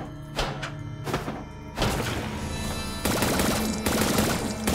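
Bursts of automatic gunfire from a recoil-heavy gun in the video game Zombotron, rapid rattling volleys in several loud stretches separated by brief gaps.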